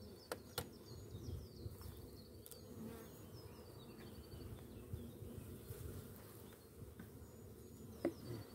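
Bees buzz in a steady, dense drone around their nest on an early spring day, with a few sharper passes of individual insects close by and faint bird chirps in the distance.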